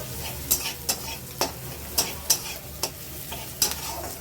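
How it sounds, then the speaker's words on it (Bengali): Onion and a clove of garlic frying in a pan while being stirred: sharp, irregular scraping clicks from the utensil over a soft, low sizzle, with no voices. "নিয়ে ভালো করে পেঁয়াজটাকে ভেজে ভেজে নেব"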